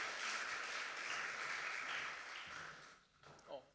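Conference audience applauding keynote speakers, a steady wash of clapping that fades after about three seconds, with a voice briefly cutting in at the end.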